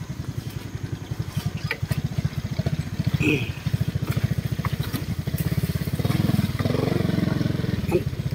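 A motorcycle ridden over a rough, poor road, its engine thumping steadily and up close with rattles and clatter from the bumpy surface, while a voice speaks faintly at times.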